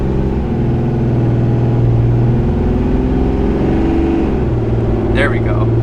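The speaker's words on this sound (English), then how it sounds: "It's wide open throttle." A 2018 RAM 2500 Cummins diesel pickup towing 10,000 pounds accelerates at wide open throttle from about 20 mph, giving a loud, steady low engine roar that builds throughout, heard from inside the cab with no talk.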